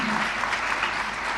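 Audience applause in a hall during a health ministry media event, a brief burst of even, dense clapping at moderate loudness.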